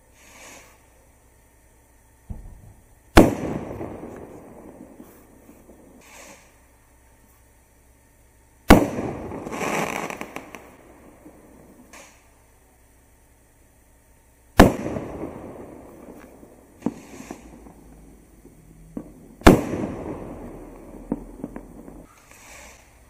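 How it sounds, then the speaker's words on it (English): Four sharp Space Falcon firework rocket launches, each followed by a crackling burst that trails off, spaced several seconds apart in otherwise quiet outdoor air. "Item number 12 is Space Falcon Rocket from Wind to Fireworks"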